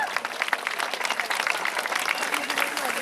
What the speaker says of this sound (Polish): brawa dla niego, brawa, brawa.